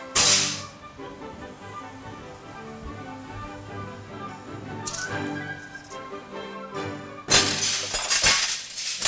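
Glass shatters with a bright crash at the start, tinkling fragments ring out, then a second loud smash of breaking glass hits near the end.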